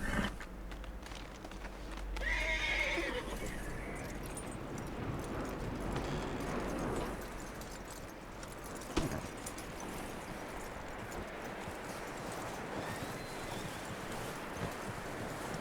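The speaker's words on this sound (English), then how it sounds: "That looks like a decent horse." A horse in the open-world western game Red Dead Redemption 2 clip-clops along with steady hoof beats amid wind and rustling, a brief higher call near the start, moderately near and without speech.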